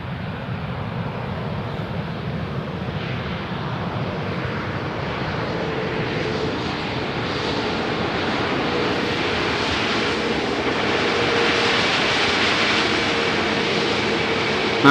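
An airliner landing on runway 18R at Amsterdam Schiphol, a broad jet roar that slowly swells and grows louder over many seconds, with no talk.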